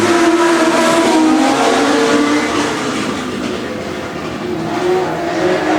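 Legend race cars in a City Discount Tyres heat accelerate together at the green flag start, a loud, dense engine roar that holds steady, dips slightly mid-pass and swells again.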